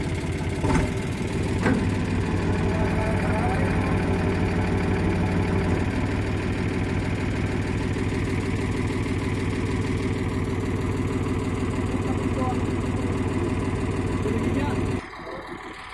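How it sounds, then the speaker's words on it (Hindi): An Eicher 485 tractor engine labours under load while pulling a trolley heavy with wood, a loud steady drone that holds for about fifteen seconds before cutting off abruptly near the end, with voices talking over it. "अरे भाई ट्रैक्टर का दम देखियो"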